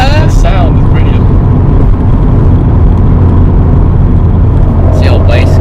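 An Alpine A110 heard from inside while driving, a loud steady engine drone with brief wastegate chirps near the start and end, as people talk over it.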